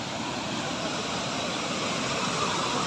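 Rushing floodwater after heavy rain roars as a steady, dense broadband rush, loud and unbroken throughout, with no voices heard.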